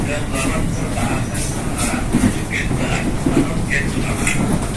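Interior of a Chinese-built commuter train running from Duren Kalibata to Bogor, with a steady rumbling hum of the carriage and faint rail clatter, and voices murmuring intermittently throughout.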